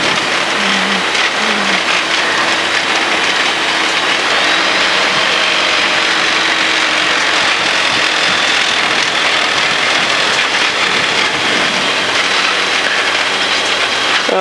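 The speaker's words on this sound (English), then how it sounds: "Now we're just going to taxi ourselves down to the other end of the runway." The engine of a small aircraft drones loudly and steadily as the plane taxis down the runway toward the far end, a constant close rumble without pauses or talking.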